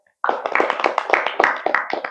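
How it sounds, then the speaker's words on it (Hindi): A group of children claps hands together after a prayer of thanks, a quick run of sharp claps that starts abruptly and lasts about two seconds, close and without talk. "तो ईश्वर का धन्यवाद देकर हम ताली बजाएं"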